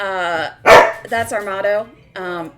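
A pet dog barks loudly close by in a home, several sharp barks and a yip in quick succession, breaking in over a person talking.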